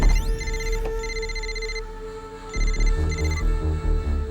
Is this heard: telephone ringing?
yes